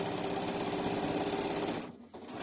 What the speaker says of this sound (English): And I'm sewing down.